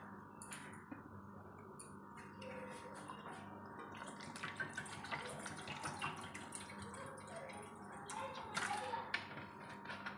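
Water is poured into a pan on a gas stove in a home kitchen while chilli cabbage is cooked, a fairly quiet, continuous splashing and trickling with faint clinks of cookware.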